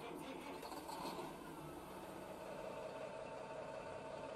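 A Diamond REO CO-88 truck engine in American Truck Simulator runs at a steady low rumble throughout, even and continuous with no clear start-up burst.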